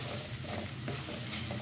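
Onions for a chicken curry fry in a pan with a close, continuous sizzle and crackle, broken by soft scraping as they are stirred, with no talking.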